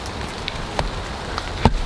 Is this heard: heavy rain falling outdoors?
yes